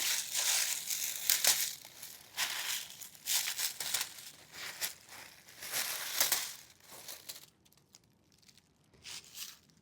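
A plastic roasting bag holding roast chicken and potatoes is cut open with scissors, giving repeated crinkling, rustling bursts with brief pauses between them, close and moderately loud.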